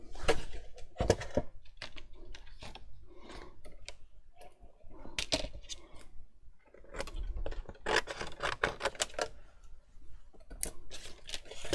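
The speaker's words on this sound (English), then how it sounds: "I'm just going to grab my paper trimmer out now" Small paper trimmer slicing white cardstock on a crafting table, a series of sharp, crisp cutting strokes and clicks arriving in irregular bursts, close and fairly loud, with no voices.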